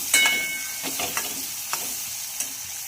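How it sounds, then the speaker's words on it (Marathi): Chopped onion sautéing in a hot pan for a besan dish with spring onion, with a steady broadband sizzle and a few sharp scraping stir strokes of a spatula, close and fairly loud, no voices. "आपण जो कांदा चॉप केलेला होता तो सुद्धा घालायचा आहे आणि छान हे सुद्धा आपल्याला परतून घ्यायचं आहे"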